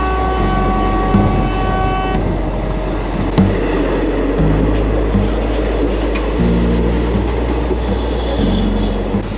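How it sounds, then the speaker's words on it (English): An Indian train in Rajasthan slows as it nears Amer station, with a loud, steady rumble of wheels and carriages, rhythmic clanks on the rails and occasional high squeals throughout. "Got the train slowing right down"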